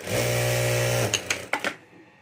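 A sewing machine stitches the second side of a folded fabric handle strip for a pencil pouch, running steadily for about a second before stopping, followed by a few short clicks and handling knocks.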